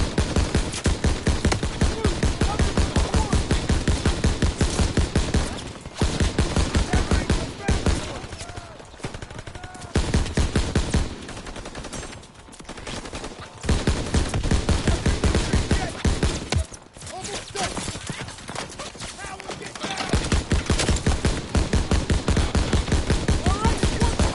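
Gunfire in the World War II shooter game Call of Duty: WWII, Battle of the Bulge and Rhine crossing: dense, loud rapid bursts of rifle and machine-gun fire, nearly continuous with brief lulls and explosions.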